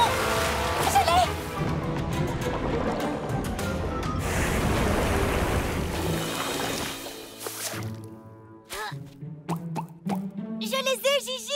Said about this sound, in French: On dirait une sorte de fontaine ou un ruisseau ou une inondation